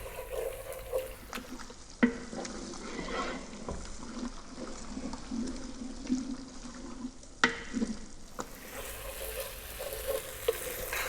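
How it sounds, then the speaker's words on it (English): Tomato paste being stirred and cooked in a pot for beef stew, a steady close sizzle with scraping spoon strokes and a few sharper knocks against the pot. "We're going to go for about another 5 minutes, stirring this in."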